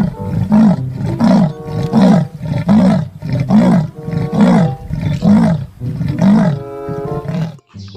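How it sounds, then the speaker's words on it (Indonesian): Repeated loud roars from a leopard in Jurassic World Evolution 2, about eight powerful rhythmic growling bursts in quick succession, close and dominant with no talk over them. "di sini ada leopard si macan tutul"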